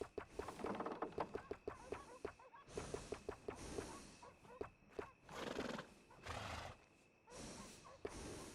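A horse in Red Dead Redemption 2 whinnies repeatedly in bursts, mixed with rhythmic clip-clopping hooves and short snorts, fairly near and unaccompanied by talk.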